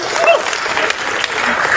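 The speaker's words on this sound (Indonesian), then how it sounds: "Tepuk tangan dulu." An audience at a press conference for a food expo in Indonesia breaks into loud, sustained clapping, a dense wash of many hands close by.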